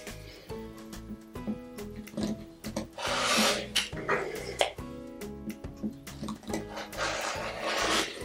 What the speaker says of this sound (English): I'm now going to be cutting out four of the F template